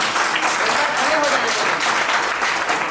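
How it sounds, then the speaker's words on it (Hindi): Applause for a second-place winner at a Valmiki Jayanti event, a continuous roomful of clapping with speech over it. "इसके लिए भी जोरदार ताली"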